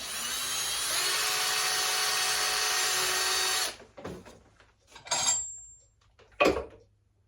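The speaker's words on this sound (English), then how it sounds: "locking the lathe at one position, I then drill a hole in" A steady high-pitched drilling whine runs for several seconds as a hole is drilled through a biscuit cutter's shoulder on a locked lathe, then stops, followed by a few scattered clanks and metallic scrapes.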